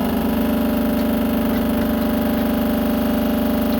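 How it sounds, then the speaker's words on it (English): A heat gun runs continuously while softening a sticker on a game cartridge, a loud, steady motor-and-fan drone with a constant hum and no variation throughout. "Let's demonstrate using my heat gun after all."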